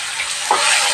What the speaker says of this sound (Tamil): இந்த வெங்காயத்தை வந்து நம்ம ரொம்ப வதக்கணும்னா சும்மா ஓரளவுக்கு வதங்கினா போதும்.